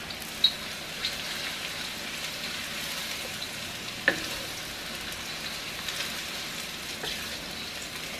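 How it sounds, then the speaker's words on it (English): Seafood frying over high heat in hot oil in a wok, a steady close sizzle with a few sharp pops and spatters, no voices. "See how it's sizzling?"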